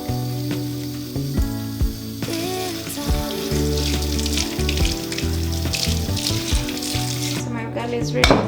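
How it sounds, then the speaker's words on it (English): Water runs and splashes steadily from a kitchen sink tap while ugali is being cooked, a continuous bright rushing wash that sits over a busy, music-like background throughout. "So I'm going to release the water from the sink."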